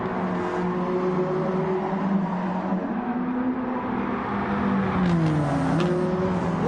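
Stock cars from the CASCAR Cup Series racing at Watkins Glen in Gran Turismo 7, a sustained layered engine drone with pitches shifting as cars pass and rise in revs near the end.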